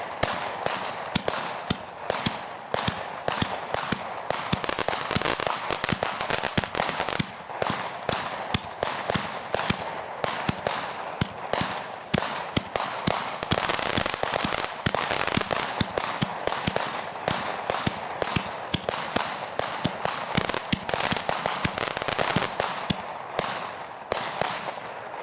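Great Grizzly Hellraiser 55-shot fireworks cake firing at a demo night, a rapid, dense barrage of loud cracking bursts and booms running continuously without pause.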